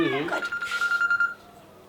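A phone rings with a short, steady electronic tone over talking voices, which continue briefly before the clip goes quiet.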